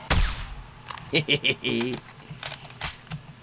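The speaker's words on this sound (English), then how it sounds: "I want to shoot you again" Gunshots in the video game 7 Days To Die, a loud opening blast followed by a quick burst of rapid shots and a few scattered later reports, with someone talking over them.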